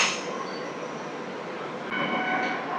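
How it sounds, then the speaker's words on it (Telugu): A train departs from platform 4 at a railway station, giving a continuous, heavy rumble of wheels and cars rolling past nearby, steady and loud throughout. "ప్లాట్ఫామ్ నెంబర్ 4 నుంచి అయితే ఒక ట్రైన్ అయితే వెళ్ళిపోతుంది"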